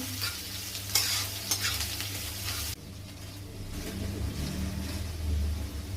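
Food sizzles steadily in a pan on a home stove, with stirring scrapes and crackles that swell during the first few seconds, over a low constant hum and no talking.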